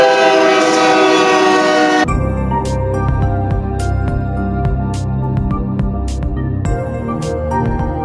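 A train sound effect, opening with a loud, sustained horn blast that gives way to the steady rumble and clatter of rolling rail cars with repeated sharp clicks.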